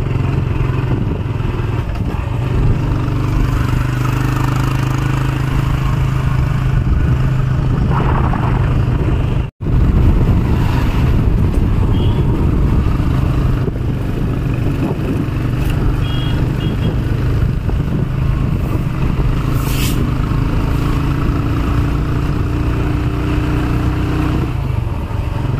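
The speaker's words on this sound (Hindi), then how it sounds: "Yash riding bike very well." Motorbike engine droning steadily on a mountain road near Dalhousie, with continuous wind rush and road noise throughout, a brief dropout midway, and occasional higher-pitched tones from passing traffic.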